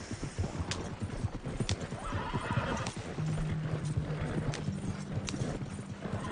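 Horse hooves clip-clop along at a steady pace with a whinny, set against a busy background of other game-like sounds.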